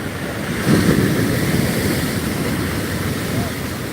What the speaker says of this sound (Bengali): ভয়ঙ্কর রূপে তেড়ে আসছে ওল দিঘা বিচের সমুদ্রের ঢেউগুলি